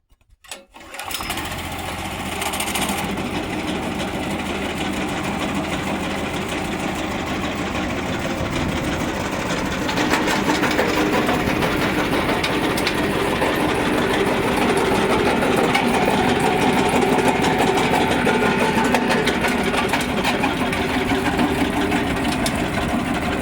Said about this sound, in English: So we're going to run this through the jaw, and then we'll run it through the impactor, get this started up.